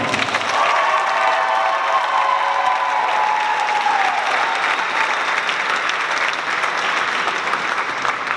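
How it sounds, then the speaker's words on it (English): Sustained audience applause at the close of a Harvard medical and dental school FABRIC talent show, loud and steady throughout with a faint tonal voice or note fading early, no spoken words. "So one last round of applause for them."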